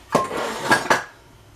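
Ceramic dishes and ingredient containers shifted around on a kitchen counter while baking holiday muffins, giving three distinct clattering knocks in quick succession, close and fairly loud, with no talking.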